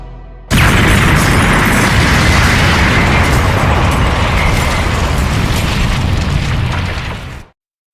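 A massive explosion from a Jujutsu Kaisen anime battle, where Gojo's supreme technique engulfs Sukuna and Mahoraga: a sudden loud blast followed by a sustained, roaring, crackling rumble for about seven seconds before cutting off abruptly.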